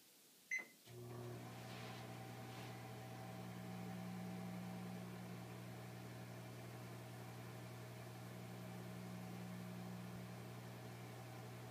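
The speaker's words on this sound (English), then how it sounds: "now I'm going to do the third one with the microwave running again." Microwave oven running with a steady low hum and faint whirring drone, starting after a brief click near the start and continuing evenly throughout, no voices.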